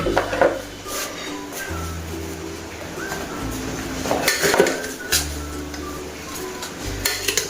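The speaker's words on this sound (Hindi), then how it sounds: "अब इसको अच्छी तरह हम मिक्स करेंगे सबको।" Russian salad mixed with a spoon in a bowl, light repeated clinks and scraping in a kitchen, with steady cooing tones in the background.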